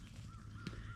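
Farmyard birds on a property with turkeys, rabbits and pigs let out a faint raspy call or two, low in level against steady outdoor background noise.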